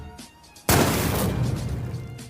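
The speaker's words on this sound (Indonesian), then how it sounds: "peluru yang sudah dimodif sebelumnya oleh Bob Lee agar meledak di tempat" A sudden loud bang as a rifle round explodes inside the gun after a quiet moment, followed by a sustained roaring, crackling burst that slowly fades.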